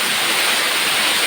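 Water flowing at a condominium pool, a loud, continuous rushing hiss like a small cascade or fountain, close and steady for the whole short stretch, with no talk over it.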